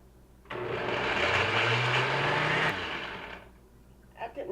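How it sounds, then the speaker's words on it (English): A blender whirs loudly for about two seconds as it chops cut-up vegetables, with the motor pitch shifting under load before it spins down. A short burst of speech or clatter follows. "That blender actually did the job"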